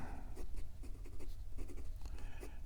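An Esterbrook Estie fountain pen with a fine 0.4 mm nib scratches across paper in short, close strokes, a soft continuous scratchy texture with small rhythmic accents.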